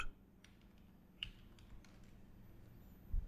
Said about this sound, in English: Just click on Ctrl on your keyboard, then press minus button on your keyboard.